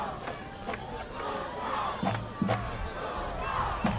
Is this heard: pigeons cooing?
no